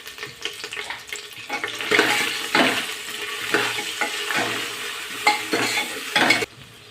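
Fried onion stirred with ginger garlic paste and turmeric in a pan sizzles loudly and close, with repeated scraping strokes of a spoon against the pan that cut off abruptly at the end.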